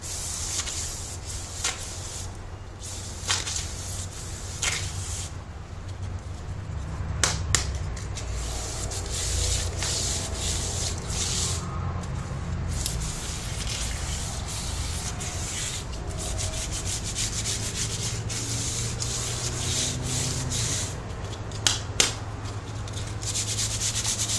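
Coarse sandpaper rubs by hand across a PVC bow in long, repeated strokes, making a continuous close scratchy rasp with a few brief sharper scuffs and no talking.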